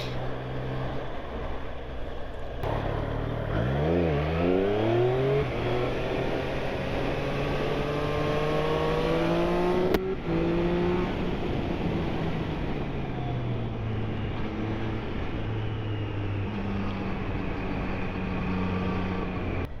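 A 2023 Triumph Street Triple RS motorcycle engine revs and accelerates through the gears, its pitch climbing and dropping with each shift, loud and steady over a constant rush of wind.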